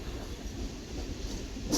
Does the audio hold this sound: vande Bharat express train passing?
yes